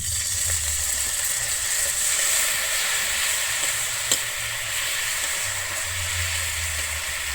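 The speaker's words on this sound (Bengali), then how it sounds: "দিয়ে আমি আবার এখানে খুব ভালোভাবে কষিয়ে নেবো" Spices with turmeric sizzle steadily in a hot pan for Bengali vegetarian jackfruit and potato curry, a continuous close frying hiss with occasional faint scrapes, no talking.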